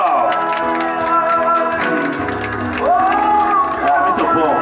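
Guests at a birthday party clap and cheer over a loud background of music, with voices calling out among the crowd noise throughout.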